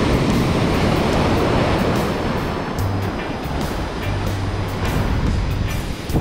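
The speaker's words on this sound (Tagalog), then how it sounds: "grabe, lakas ng alon eh mga lods." Loud, continuous roar of strong ocean waves crashing and rushing close by on the coast of Palawan, with wind noise.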